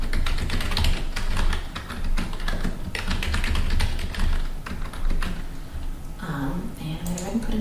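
Password being typed on a computer keyboard: a steady run of close, crisp key taps lasting several seconds, with a voice speaking briefly near the end.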